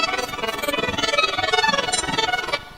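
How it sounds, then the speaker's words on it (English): A synthesized violin tone generated from a learned audio basis: a sustained, buzzy, harmonically rich sound with a faint quick pulsing tremor, steady and fairly loud throughout, ending abruptly. "And here is the sound of a violin basis."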